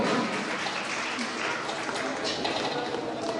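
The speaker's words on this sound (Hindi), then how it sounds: "जोरदार ताली एक बार भेजनी चाहिए" Audience applause at an alumni association gathering, a continuous crackle of many hands clapping together at moderate loudness, with faint voices mixed in.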